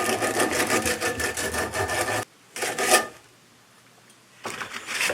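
Coarse sandpaper wrapped on a wood block sanding a hot copper camera grip part, quick rasping back-and-forth strokes close up, broken by two short pauses with a brief burst of scrubbing between them.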